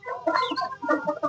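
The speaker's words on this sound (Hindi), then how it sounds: "हमारे मुर्गे मुर्गी की फाइट हुई, ये सारे यहाँ पे आ गए मेरे से खाने।" Desi chickens and roosters cluck in a short burst of several overlapping calls, close and moderately loud, without any talking.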